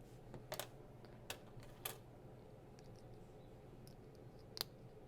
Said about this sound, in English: Here comes a lot of clicky clicking.